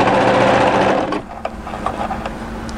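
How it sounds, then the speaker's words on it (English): An overlocker stitches a raglan hoodie seam at the underarm, a loud steady mechanical whir for about a second before it drops away, leaving faint clicks and a low hum. "Going to overlock."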